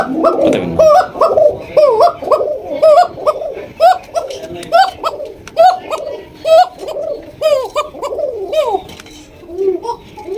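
A pigeon sitting on its eggs coos in repeated rising and falling phrases, close and fairly loud, with brief gaps between calls throughout.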